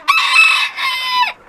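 A nearby chicken lets out a single loud, drawn-out crowing call in two sustained parts that falls off at the end, with no speech.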